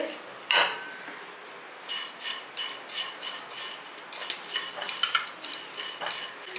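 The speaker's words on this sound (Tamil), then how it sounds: "இந்த சீரகத்தை இதோடய போட்டு வறுத்துங்க இதுவும் ட்ரை ரோஸ்ட் தான் பண்ணணும் எண்ணெயெல்லாம் விடக்கூடாது" Cumin seeds and black pepper dry roast in a pan without oil for an instant pongal mix, with a sharp clink of a spoon against the pan, then scraping, stirring bursts and light rattling of the seeds.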